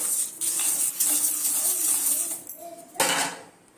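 Millet roasting in a pan over a low flame is stirred with a utensil, giving a continuous dry scraping and rustling with a steady hiss and occasional light clinks, close and moderately loud.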